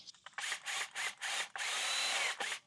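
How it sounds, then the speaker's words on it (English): A power drill with a step bit whirs in several short bursts, then one longer steady run as the bit bores through material, close and fairly loud. "I'm just going to eyeball it, and I'm going to drill it out."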